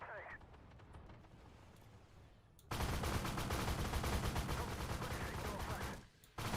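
Machine gun fire from the turret of a BVP M-80A infantry fighting vehicle in a video game, a sustained loud rapid burst lasting a few seconds after a quieter stretch where someone talks faintly.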